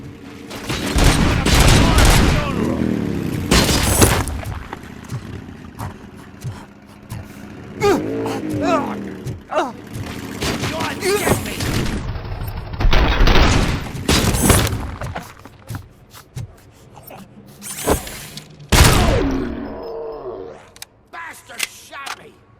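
Rapid bursts of gunfire from the video game Robocop Rogue City crack out in loud, repeated volleys, with heavy impacts and clatter between the shots and some game dialogue mixed in.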